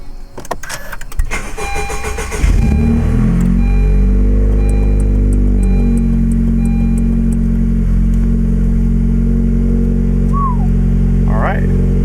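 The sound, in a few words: car engine starting and running after spark plug change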